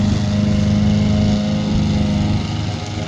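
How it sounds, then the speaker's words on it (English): A DIY remote-control lawn mower runs with a steady, loud engine drone that holds at an even level throughout, with no voices. "Who said we had to push the mower?"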